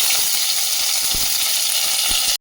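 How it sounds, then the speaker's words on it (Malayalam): Curry leaves, dried red chillies and chopped small shallots hit hot oil with mustard seeds, giving a loud, steady sizzle and crackle with a few sharp pops, no voices. "ഇനി ഇതിലേക്ക് ഞാൻ കറിവേപ്പിൻ്റെ ഇല, വറ്റൽമുളക്, ചെറിയ ഉള്ളി നുറുക്കിയത് ഇട്ട് കൊടുക്കാം."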